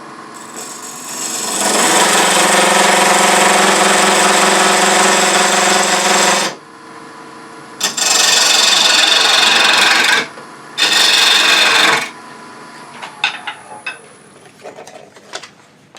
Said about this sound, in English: Anchor the tool, shove it in and scrape.